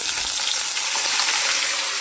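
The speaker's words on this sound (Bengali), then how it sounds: "সবকটা সবজি আমি দিয়ে দিচ্ছি তেলের মধ্যে।" Mixed vegetables for shukto, potatoes among them, fry in oil with a continuous, dense sizzle and crackle, close and fairly loud with no talking.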